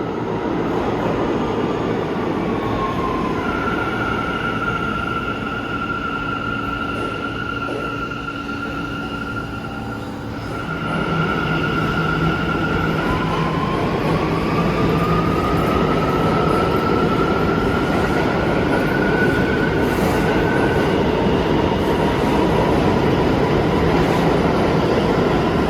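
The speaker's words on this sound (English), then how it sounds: "Here comes another A train arriving Euclid Avenue with R179s." An NYC subway A train of R179 cars pulls into Euclid Avenue station, a loud, sustained rumble with rising and falling motor whines and a brief dip before the roar swells again.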